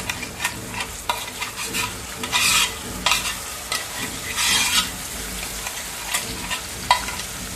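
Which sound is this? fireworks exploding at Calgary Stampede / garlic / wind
garlic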